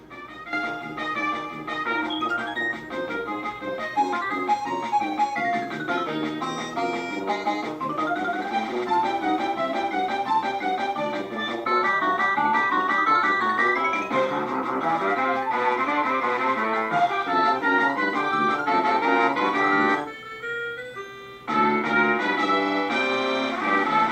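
Upbeat chiptune-style Animaniacs game theme plays continuously, busy melodic lines over a steady beat, first the Sega Genesis version, with a brief drop near the end before the Super Nintendo version resumes with a different tone.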